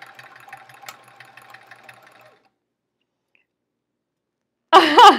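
A domestic sewing machine stitching quilt sashing, a steady fast mechanical whir with rhythmic clicks for a couple of seconds, then silence before a short burst of sound at the end.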